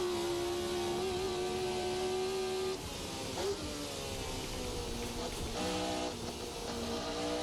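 A Formula 1970 V8 race car in a racing simulator holds a loud, sustained, buzzy engine note, with the pitch dropping and shifting through gear changes partway through and no talking.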